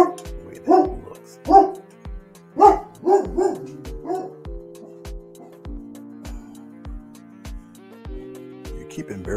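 A dog barks in a series of sharp, loud barks spaced roughly every second, with a few softer yips, over a low steady tonal hum and faint background sounds.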